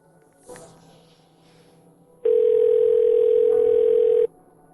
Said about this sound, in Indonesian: Ayan, aku harus telepon dulu